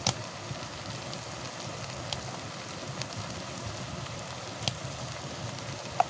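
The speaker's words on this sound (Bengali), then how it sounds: "কাঠের আগুনটা জ্বলছে দেখো" A wood fire burns close by with a soft, steady crackle and a handful of sharp pops and snaps scattered across the stretch, with no voices.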